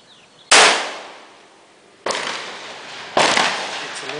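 Three sharp, loud rifle shots from a Winchester .243, fired outdoors at a steady pace, each a hard crack followed by a long, fading echo.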